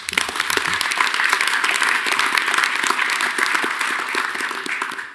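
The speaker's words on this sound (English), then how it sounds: "So let's give James a round of applause." A room full of people at a university board of regents meeting applauding, steady dense clapping that holds for several seconds and then begins to fade.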